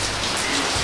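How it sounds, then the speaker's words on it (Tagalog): Heavy rain pours down steadily, a loud dense roar of drops hitting surfaces close by, unbroken and with no voices. "malakas pala ulan"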